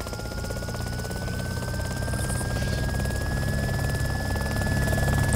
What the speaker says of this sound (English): Why don't you land the chopper next to it?